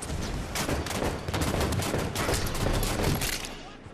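Heavy gunfire erupts in a Halo 5: Guardians Warzone battle, a continuous loud barrage of shots and blasts filling the whole stretch with no pause.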